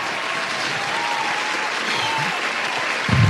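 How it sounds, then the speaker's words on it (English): Audience applause sound effect bursts in as a dense, even wash of clapping that lasts a few seconds, loud and without talk, cut off abruptly at the end. "Did you do an audience clap?"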